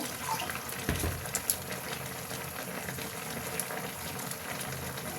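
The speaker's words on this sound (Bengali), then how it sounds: "একটু জল দিয়ে ধুতে হবে মিক্সিটা" Water runs steadily into a mixer grinder jar as it is rinsed in a home kitchen, a continuous moderate splashing hiss with a few brief knocks, no voices.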